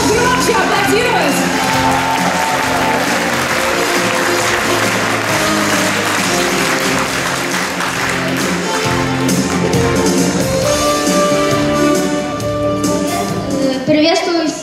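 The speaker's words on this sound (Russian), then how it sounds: "можно громче аплодировать" A youth forum audience claps loudly and steadily in a large hall, a dense sustained wave of applause with scattered shouts and whoops, while music and an amplified voice carry on underneath.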